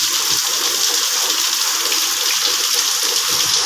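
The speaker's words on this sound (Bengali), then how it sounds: "এরকম হারে বৃষ্টি হচ্ছে।" Heavy rain pours down outside a house, a dense, steady hiss of falling water that stays loud and even throughout with no voices.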